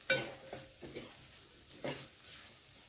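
Garam masala, turmeric and red chilli powder being stirred in a hot pan, a few quiet scrapes and a soft sizzle at close range, with long pauses between strokes.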